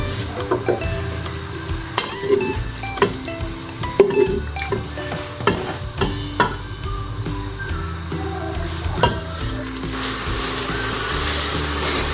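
Onions frying in oil in a pan for dhaba-style chana dal, a steady close sizzle broken by repeated metallic clinks and scrapes of a stirring spoon against the pan, the sizzle swelling brighter near the end.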